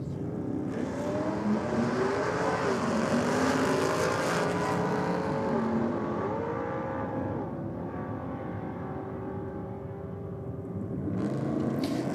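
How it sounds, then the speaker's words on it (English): Several drag racing cars at a state championship meeting roar loudly and steadily, engine pitch climbing and dipping through gear shifts, one car sounding rough as it changes gear, with no talk over the engines. "Sound like some issues with one of those cars shifting gear there."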